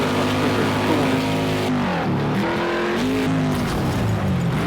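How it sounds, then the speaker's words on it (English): Race car engines roar loud and steady in Project Cars 2, a Group 5 race on Raupuna, with pitch sweeping down and back up as the cars shift and brake through corners, no talk over them. "Listen to the sound of those engines, absolutely mighty"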